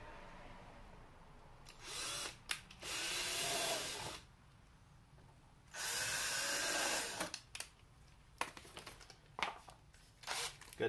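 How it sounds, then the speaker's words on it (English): A power drill bores holes into the front bumper cover of a 2006-2016 Chevrolet Impala: two loud, sustained whirring bursts, separated by quieter handling, rustling and clicks. "Got two nifty little holes drilled."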